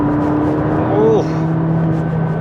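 A McLaren 570GT's engine hums steadily from inside the cabin as the car accelerates at speed in wet weather, with a brief tonal sweep partway through and constant road and wind roar underneath.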